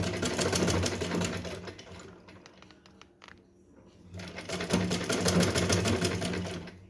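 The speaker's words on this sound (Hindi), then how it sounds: "तो मैं यहाँ से एकदम सीधा सिलाई लगाऊंगी" A sewing machine stitches a straight seam on a small Janmashtami dress for Laddu Gopal, whirring close and steady, pausing in the middle with a few light clicks before running again.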